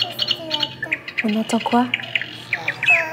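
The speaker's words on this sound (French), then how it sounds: "Vous entendez les oiseaux ?" Birds chirp and tweet in a repeated, busy pattern in a classroom sensory room, with an adult voice speaking over the calls.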